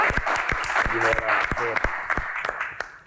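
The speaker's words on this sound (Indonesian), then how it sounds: "Baik, tepuk tangan buat Pak Bolot." Applause at a Q&A event, honoring panelists and a guest star, comes as loud clapping with cheering voices briefly rising over it mid-clip before the claps thin out into scattered slaps.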